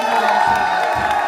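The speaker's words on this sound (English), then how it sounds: "Round of applause" A crowd of listeners cheers and whoops in a brief, dense burst, loud and continuous throughout.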